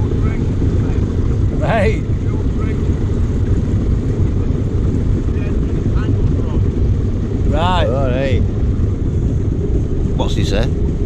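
A boat's engine on a River Trent cruise, its angle off, drones loud and steady throughout with a constant low rumble, while people talk briefly over it.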